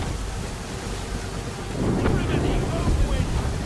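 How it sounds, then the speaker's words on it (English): A heavy gust of wind roars over a sailing ship at sea in Assassin's Creed 3, with water and rigging noise swelling louder midway and staying strong. "Heavy gust, Captain!"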